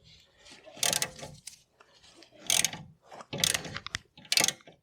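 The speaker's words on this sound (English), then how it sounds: "Just going to get this bolt out here." A ratchet works a front brake caliper bolt loose on a Volkswagen, producing four separate bursts of sharp clicking close up, with quiet gaps between the bursts.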